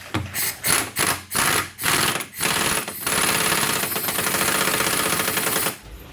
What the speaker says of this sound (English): Never tighten anything with an impact, because I just did.